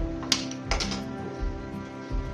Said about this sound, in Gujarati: ગેસને ચાલુ કરી લઈએ